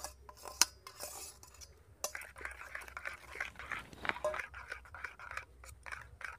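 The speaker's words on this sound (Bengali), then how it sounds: "ওগুলো ডিমের সঙ্গে দেব, দিয়ে ভালো করে ফিটিয়ে নেব" Eggs beaten with fried spice masala in a bowl for a Mughlai paratha, making a soft, continuous scraping and clinking of the utensil against the bowl. The strokes come in quick, irregular bursts, close and moderately quiet.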